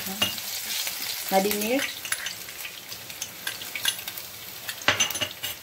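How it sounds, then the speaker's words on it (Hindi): Ginger and garlic paste sizzling and frying in hot oil in a pan while being stirred, a steady crackle with scraping strokes; a voice speaks briefly. "अब तेल गरम हो गया है, इसमें अदरक का पेस्ट डालेंगे, लहसुन का पेस्ट डालेंगे"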